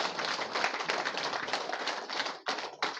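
Loud, continuous applause from an audience at a BJP joining event, a dense wash of clapping hands that dips briefly near the end.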